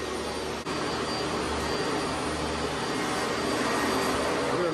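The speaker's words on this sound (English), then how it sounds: "There are a lot of noises here. A lot of it is in the heating and cooling system" A steady broadband roar from a hotel's heating and cooling system in an old Marietta, Ohio hotel, a constant blowing hiss that stays loud and even throughout with one brief dip near the start.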